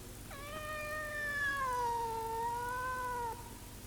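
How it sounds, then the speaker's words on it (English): A frightened cat cries out in one long, drawn-out wailing meow that rises and then falls slowly, close and fairly loud over a faint steady background hum. "Each time she came near it, the cat cried and hid underneath a table or a chair."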